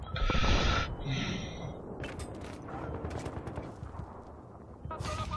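Battlefield 3 gunfire: rapid bursts of shots crackle loudly at the start, then scattered shots and game noise follow, with another burst at the end.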